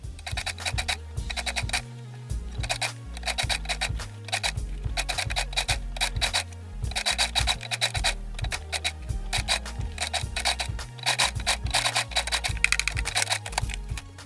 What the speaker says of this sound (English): So you're going to sew the rigilene boning on the princess line first.